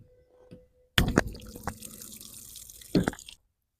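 Pressurized water bursts from a Scamp trailer's city water valve once its filter is removed, starting abruptly with a loud gush, hissing and spattering for a couple of seconds, spurting again, then cutting off.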